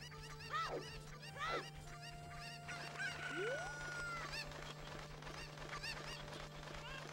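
Cuccos, the chickens in Zelda: Ocarina of Time, clucking and squawking repeatedly in a game soundtrack, their sharp calls rising and falling over a steady low hum and busy background noise.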